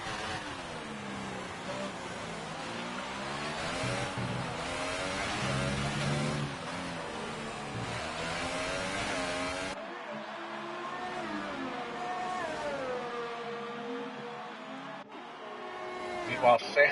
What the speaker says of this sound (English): Van Gelder trying to gap that as the cars get spread out a little bit here.